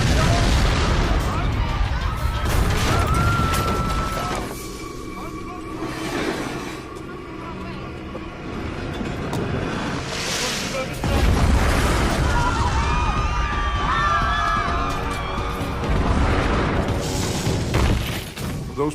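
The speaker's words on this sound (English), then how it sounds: "Each cannon packed with up to 10 stone balls." Heavy cannon fire in a siege, muzzle-loaded guns packed with stone balls, sounds as repeated deep booms and crashing impacts, loud and continuous over about nineteen seconds amid rumbling debris.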